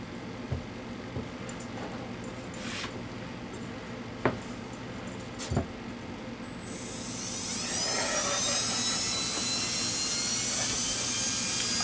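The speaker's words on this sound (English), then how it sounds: "I recommend low speed on the Milwaukee drill to mix your dry ingredients" A few faint knocks and clicks, then a Milwaukee power drill mixing dry cookie ingredients spins up and whirs loudly and steadily until the end.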